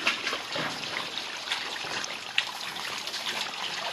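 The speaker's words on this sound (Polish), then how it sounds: "A tutaj bardzo malowniczo woda leci." Water trickles and splashes steadily inside an old coal mine, a close, continuous dribbling flow with no voices over it.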